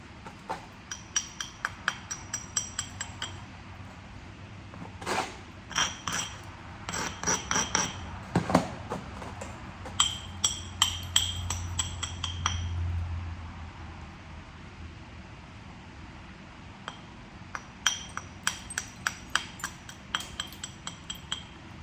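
Quartzite is flintknapped with a bopper, giving sharp, irregular clinking strikes close by, scattered in bursts and separated by short pauses, with occasional faint scraping between blows.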